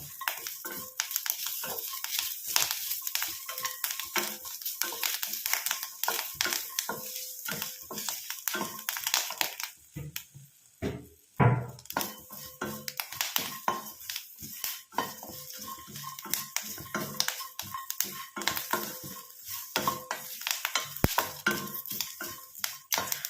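Grated coconut and curry leaves frying in a pan while being stirred, a busy stream of scraping and clattering utensil strokes over a crackling sizzle, close and continuous.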